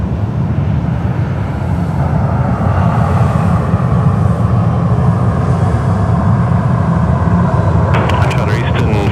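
An airliner roars steadily as it takes off from runway 16 right at Sydney Airport, a loud, continuous engine rush heard alongside radio chatter.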